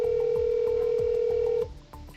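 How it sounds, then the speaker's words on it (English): A phone emits a steady dial tone that cuts off as a 911 call is placed, with faint dialing clicks and tones underneath, clear and close. "She grabs her phone and dials 911."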